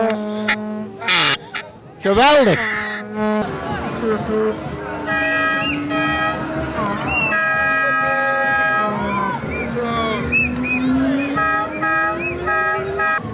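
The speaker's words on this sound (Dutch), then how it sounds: "Daar gaan wij dadelijk naar luisteren of jullie wel heel hard kunnen toeteren." Children at a carnival parade in Casteren toot horns loudly in several sharp blasts, with crowd babble and an adult voice talking around them.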